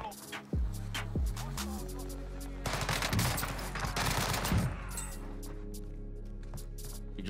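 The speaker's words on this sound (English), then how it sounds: "A lot of shots to my right." Dense bursts of automatic and single-shot gunfire from a Call of Duty battle on Rebirth Island, rapid volleys clustered in the middle with scattered shots before and after, fairly loud and close over a low game rumble.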